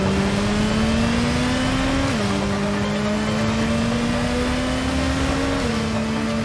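A motorcycle engine in a Batman video game hums at a steady, loud pitch, shifting up and down as it revs and changes gear, heard alone without voices.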